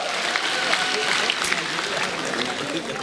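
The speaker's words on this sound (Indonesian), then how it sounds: "Beri tepuk tangan buat Raditya Dika." A stand-up comedy crowd gives a full, sustained round of applause for Raditya Dika, a thick, even roar of clapping with scattered cheers and voices mixed in throughout.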